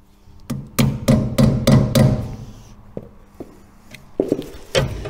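Hammer blows tapping a grease cap onto an MGB wheel hub during a wheel bearing installation: a quick run of five sharp, close metallic strikes, a pause, then several more scattered taps.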